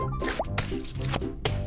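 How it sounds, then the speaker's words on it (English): Cartoon sound effect from Peppa Pig of Peppa and George jumping in muddy puddles: a run of wet, squelchy splashes and plops in a steady bouncing rhythm, close and loud over a busy backdrop. "Peppa and George are doing what they love to do most of all, jumping in muddy puddles."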